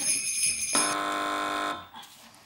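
A loud, steady electronic quiz-show buzzer with a harsh, tonal quality sounds for about a second before cutting off abruptly.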